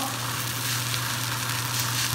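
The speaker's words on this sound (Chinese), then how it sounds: "再这样去煎制这么1-2分钟，使所有的面都已经有这种焦酥状" Steady, dense sizzling of eggplant pan-frying crisp in hot oil, continuous and close with no talking.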